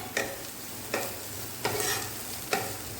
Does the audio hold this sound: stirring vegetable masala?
yes